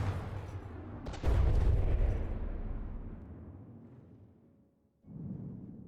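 Guns on a vehicle in From the Depths fire in a test of spall liners against HESH rounds, a loud heavy blast with a long decaying rumble, followed by a second, quieter report.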